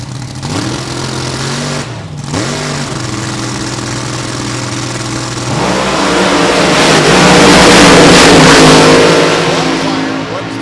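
A 2007-built drag race car with a 406 cubic inch Hemi runs at full throttle down the track, its loud, droning engine note rising and swelling into a roaring broadband blast as it accelerates away.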